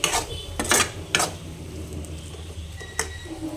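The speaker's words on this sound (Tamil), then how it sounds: "மிளகாத்தூள் போட்டு நல்லா வதக்கிட்டு இருக்கேன்" Chili powder sautés in oil in a pan for dried fish curry, with a few sharp scraping and clanking strokes of a spoon over a soft low sizzle, near and alone.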